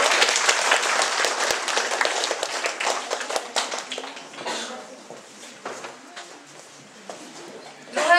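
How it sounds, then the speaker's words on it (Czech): Applause from an audience at a library award ceremony, starting strong with many hands clapping and then thinning into scattered claps that fade toward the end before a brief loud burst. "zatleskáme."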